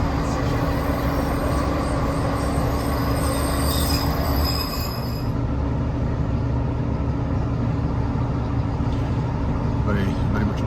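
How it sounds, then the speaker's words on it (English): A train passes close by on a busy branch line near Exeter, a steady rumble of wheels and rails with high metallic squeals in the first half and a person talking over it. "Here's the other train we got off earlier."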